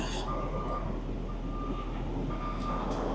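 Reversing beeps from a truck backing a trailer into a loading spot, steady repeating tones over a constant low engine rumble, fairly close and clear.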